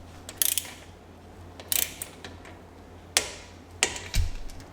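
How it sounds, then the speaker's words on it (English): A torque wrench ratchets a bolt up to 30 newton meters on an Audi Q7 axle, producing a few faint, sharp clicks and ratchet rasps spaced apart over a low background hum, ending with a heavier clunk. "Then we need to torque this up 30 Newton meters,"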